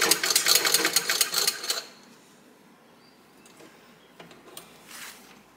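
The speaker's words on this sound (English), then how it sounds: "Well, it's making stitches." A vintage Free Number 5 sewing machine, with its tension out of adjustment, stitches in a fast, steady mechanical clatter for about two seconds, then stops, leaving faint clicks and handling noises.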